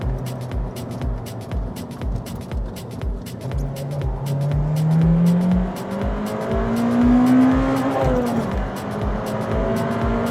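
Honda Civic Type R EP3 hot hatchback driven on the road, its engine heard from inside as a rising then falling rev that climbs through the gears, loud and close with rhythmic road thumps underneath.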